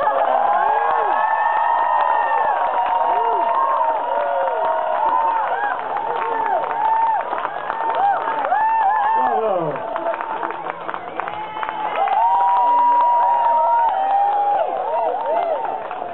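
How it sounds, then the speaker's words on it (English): An audience applauds and cheers after an adult camp performance of Hamlet, with sustained clapping, whoops and excited shouting from a lively crowd that stays loud for the whole stretch, dipping briefly near the end before swelling again. "And now we applaud."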